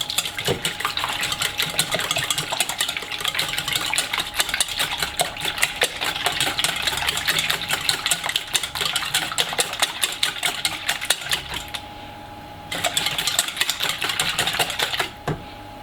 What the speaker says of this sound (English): And now I'm just going to lightly whisk this.